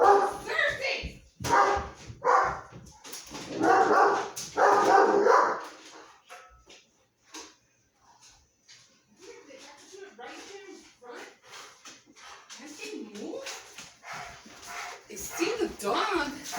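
A dog barks in bursts of loud, close barks during the first few seconds, mixed in with people talking, then quieter voices and chatter carry on in a home setting.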